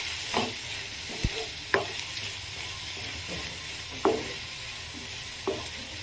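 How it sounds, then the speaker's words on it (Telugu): Chopped coriander leaves fry in oil with a soft steady sizzle, broken by a few sharp clinks and scrapes of a spoon stirring in the pan. "ఇది ఆయిల్లో మగ్గేటప్పుడే మనం పచ్చివాసన మొత్తం పోయేంత వరకు కూడా మనం ఫ్రై చేసుకోవాలి."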